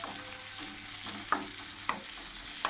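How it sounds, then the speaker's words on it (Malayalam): Steady hissing sizzle of mustard seeds spluttering in hot oil with crushed chillies, with a few sharp pops and scraping stirs breaking through, close up. "കടുക് പൊട്ടിച്ച് അതിങ്ങനെ മൂപ്പിച്ചുകൊണ്ടിരിക്കുകയാണ്"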